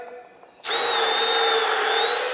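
A power drill starts abruptly and bores into an oil stone, a loud steady whine that holds for nearly two seconds after a quiet lead-in.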